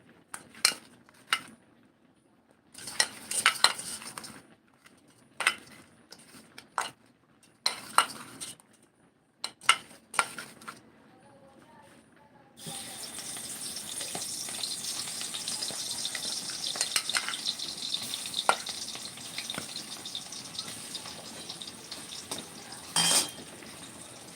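Fish frying in a pan, opening with a run of sharp utensil clinks and taps against the cookware, then settling into a continuous close sizzle broken by occasional stirring clatter.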